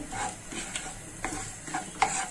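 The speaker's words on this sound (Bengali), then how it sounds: "এখন আমি ভেজে নিব সেমাইটাকে" Vermicelli (semai) toasts in a pan for jorda shemai, with a soft background sizzle broken by light scraping stirs and a few brief clinks of a utensil, quiet and close.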